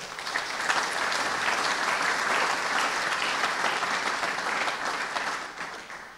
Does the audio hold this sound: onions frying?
no